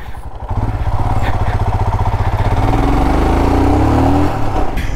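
Off-road motorcycle bouncing over potholes on a rough track near Ketanahalli falls at Srinivasasagara, its engine loud and close with a steady throbbing drone that climbs as the revs rise.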